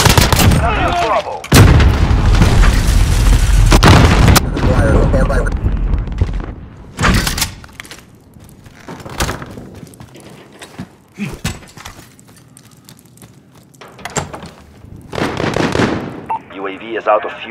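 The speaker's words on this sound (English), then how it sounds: "Precision airstrike." Precision airstrike explosions in Call of Duty: Modern Warfare multiplayer, with a loud heavy blast early, then a string of sharp booms and cracks spread through the rest, separated by quieter gaps.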